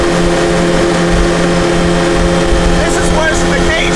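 Loud, steady road roar from knobby tires on a Nissan GTR fills the cabin continuously, with a constant droning engine and tire hum and people talking over it.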